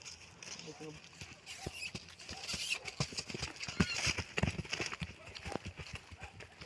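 A mare's hooves clip-clop in a steady trotting rhythm at close range on a muddy road, with a person talking over them and some rustling in the background.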